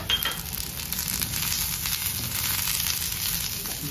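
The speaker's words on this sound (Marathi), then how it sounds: "तर याच तेलामध्ये आपण कांदा आणि खसखस टाकूया।" Onion and poppy seeds frying in oil in a pan, a steady broadband sizzle that holds evenly throughout, close and continuous with no voices.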